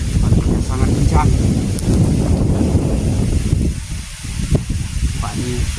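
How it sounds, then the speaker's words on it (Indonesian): Strong wind blasts through the open air around a hut during heavy rain while fence posts are being put up, a loud, close, continuous roar of buffeting gusts that briefly eases before surging again. "Anginnya sangat kencang."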